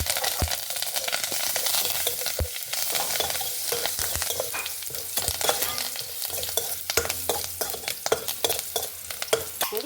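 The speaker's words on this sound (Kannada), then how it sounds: "ಬೇವಿನೆಲ್ಲ ಹಾಕೊಂಡ್ಬಿಡು." Curry leaves dropped into hot oil with garlic and mustard seeds for a beetroot chutney tempering crackle and sizzle loudly and steadily, with sharp pops and spoon scrapes scattered throughout.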